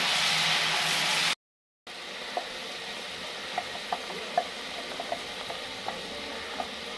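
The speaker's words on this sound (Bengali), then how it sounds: "দিয়ে দিচ্ছি পেঁয়াজ, রসুন আর টমেটোর পেস্টটা দিয়ে নাড়াচাড়া করে নেবো ভালো করে।" Onion, garlic and tomato paste frying in hot oil for a rui fish curry, a steady loud sizzle that cuts out briefly, then resumes softer with light clicks of stirring.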